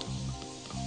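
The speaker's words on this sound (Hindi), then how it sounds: "आप टमाटर को पैन में डाल दें और इनको भी लीक्स और प्याज के साथ थोड़ा सा टॉस करें" Tomatoes tossed with leeks and onions in a frying pan, a brief close sizzle with a soft stir, under a low humming background.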